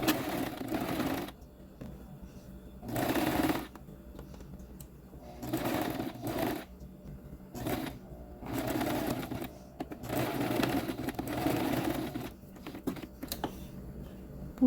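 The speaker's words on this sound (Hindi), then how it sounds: "इस इधर 2-3 सिलाई लगाएंगे हम, ताकि अच्छी तरह से हम इस इलास्टिक को स्टिच कर लें।" Sewing machine stitching elastic onto a child's fabric face mask, running in several short bursts with pauses between, close and moderately loud, no talking.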